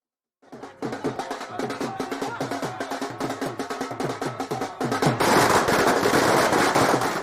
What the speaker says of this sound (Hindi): जिला मुख्यालय में आतिशबाजी किए पटाखे फोड़े